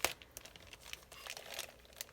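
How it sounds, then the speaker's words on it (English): Scissors cut open the plastic packaging of a Lochby journal, giving quiet crinkling and snipping with short tearing crackles, close and faint, no talking. "Hopefully not cutting the packet or the product through the packaging."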